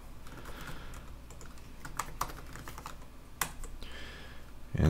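Someone types on a computer keyboard while coding, producing soft, irregular key clicks with a few sharper taps, faint and close throughout.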